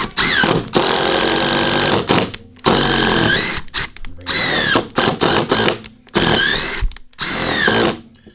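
A Metabo HPT 18V sub-compact brushless cordless impact driver whirs loudly in repeated bursts while driving screws, each run a second or two long with short pauses between, close up.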